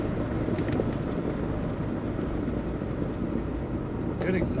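A 1976 GMC Sierra Classic C1500 pickup driving along, its exhaust a steady low rumble with road and cabin noise, continuous and even in level throughout.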